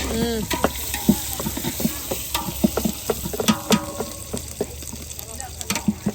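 Meat frying in fat and oil in a pan, giving a continuous close sizzle with stirring scrapes and clinks, while voices talk intermittently over the cooking.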